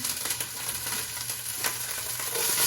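Onions hit a hot pot of beef stew base with a steady, close sizzle and light crackle that holds for a few seconds, with no talk over it.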